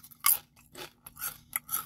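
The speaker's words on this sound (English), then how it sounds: "closed mouth crunch" Jalapeno kettle cooked potato chips crunched in the mouth, four or five sharp, close crackling bites spaced irregularly against near silence.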